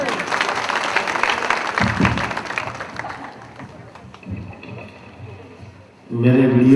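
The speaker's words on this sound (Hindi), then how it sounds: "अपने तालियां बजाने बड़ी कंजूसी कर ली हम लोगों ने." Applause from an audience at an outdoor Gujarati folk dayro held during a temple yagna ceremony, steady broadband clapping through most of the stretch and fading toward the end, followed by a sudden burst of louder sound.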